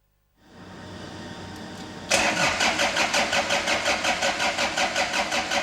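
A diesel engine cranks with a whirring starter, then catches and settles into a loud, rhythmic knocking idle.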